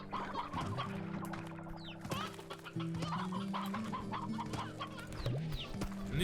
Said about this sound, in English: Well, they still have chickens.